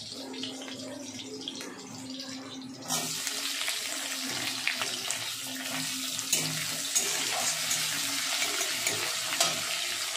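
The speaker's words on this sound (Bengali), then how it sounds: "পেঁয়াজটা একটু ভাজা ভাজা হোক," Onions are tipped into hot oil, and partway through a sudden loud, dense sizzle starts. It then holds steady and close to the end over a faint low hum.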